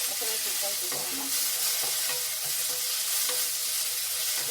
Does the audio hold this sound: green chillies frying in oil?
yes